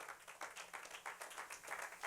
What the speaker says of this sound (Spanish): tú le dieron un aplauso al Señor